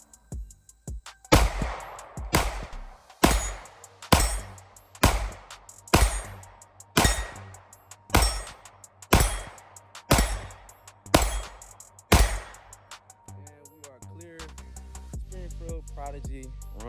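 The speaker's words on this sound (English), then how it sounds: "it don't even feel like you shoot 9mm when you shooting this thing" Nine-millimetre pistol fire at a shooting range: about twelve loud, sharp reports in steady, evenly spaced succession, each with a ringing decay, followed by a short stretch of mechanical handling noise.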